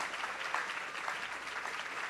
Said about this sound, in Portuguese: Eu queria pedir uma salva de palmas para o Ministério da Cultura.